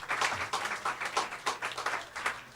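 A church congregation at a Sunday worship service claps together in a steady, rhythmic beat, moderately loud and even, with no voices above it.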